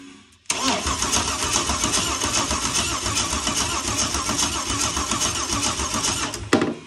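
A Holden VK Berlina's fuel-injected engine cranks and fires abruptly, then settles into a loud, steady idle with a slightly uneven gallop close by before cutting off at the end.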